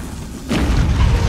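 An enemy-thrown bomb bursts in the video game Nioh, a sudden close boom that cuts in after a quiet moment and leaves a low, rumbling tail.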